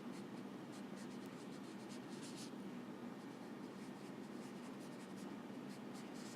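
Pen or pencil scratching across a paper page, a steady close scribbling with short bursts of strokes over a constant low room hum.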